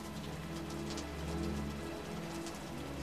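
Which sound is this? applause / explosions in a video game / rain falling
rain falling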